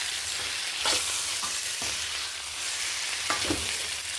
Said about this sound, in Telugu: బాగా వేగే వరకు వేయించుకోండి.